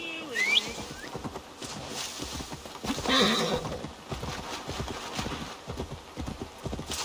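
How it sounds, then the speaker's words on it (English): A horse in the video game Assassin's Creed Valhalla whinnies sharply near the start, then its hooves clip-clop steadily throughout, with another whinny-like cry midway over soft ambient game sound. "Where's my horse?"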